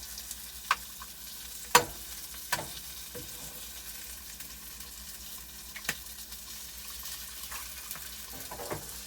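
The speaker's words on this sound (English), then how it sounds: "I buttered the wrong side of the pan." Butter sizzling in a frying pan set on a slope, a soft continuous crackle punctuated by a few sharp utensil clicks and pops, fairly quiet and close.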